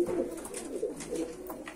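Pigeons or doves cooing inside a large poultry coop, soft low rolling coos repeating steadily and fairly close, with no one talking over them.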